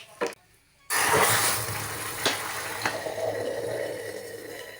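A sudden loud sizzle of red chili tempering for dal erupts in a pan after a quiet moment and keeps crackling and hissing steadily, with a few clinks along the way.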